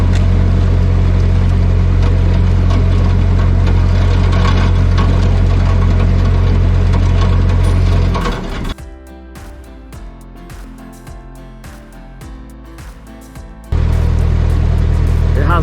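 A boat pushes through a thin skin of ice on a cold November waterway, its engine a loud steady drone broken by crunching and scraping, then a few seconds of quieter rattling before the engine roar returns.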